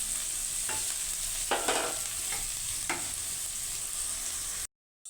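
Red amaranth stems stir-frying in a pan, a steady close sizzle with a few soft stirring scrapes, cutting off abruptly near the end, no talking.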